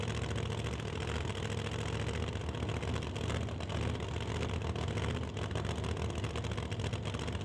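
A lowered 1941 Willys drag car with a 450 cubic inch engine idles steadily at an old-time drag event, a constant loud rumble with faint irregular lope.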